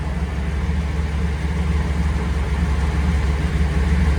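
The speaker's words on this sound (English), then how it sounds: "Let's listen to the engine." A rare, once-discarded car under restoration sits with its engine idling, a loud, steady low rumble with an even texture and no change in pace.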